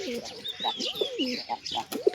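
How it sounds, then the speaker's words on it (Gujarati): Pigeons coo softly inside their pigeon box, a series of close, low rolling coos repeating about every half second, with faint chirps above them. "આપણે બધા કબૂતર બેઠા છે."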